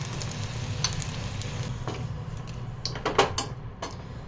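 Potatoes frying in oil in a wok, a steady low crackling sizzle running throughout, with a few brief clinks and stirring scrapes near the end.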